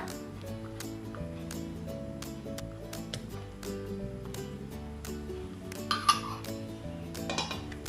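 A spoon scrapes and clinks against a pot or bowl while red chili paste is stirred into a mixture for tom yum flavored popcorn bread, steady and close, with soft background music underneath.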